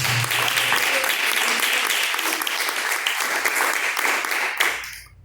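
Sustained applause in praise to God from a church congregation at a live worship service, a thick and even wash of clapping that ends abruptly just before the close.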